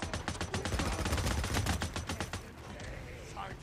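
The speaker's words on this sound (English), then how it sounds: "Between a shotgun and a goddamn machine gun at me" Rapid bursts of gunfire, shotgun blasts mixed with machine gun rounds, hammer away in Days Gone for about two and a half seconds, loud and close, then fade into quieter mechanical rattling.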